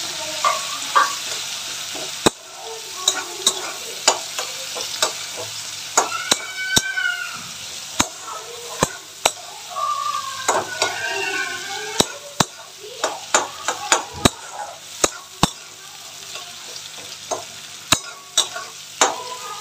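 Onions frying in a pan after garlic, a steady close sizzle punctuated by frequent sharp clicks and scrapes of a spatula being stirred through them.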